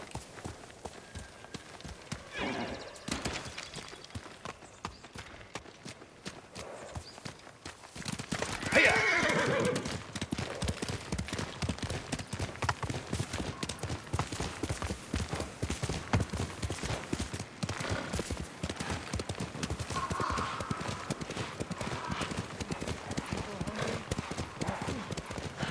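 Kage the horse in Ghost of Tsushima, hooves clip-clopping in a steady fast rhythm that starts quiet and grows louder after a neigh partway through, with no talk over the galloping.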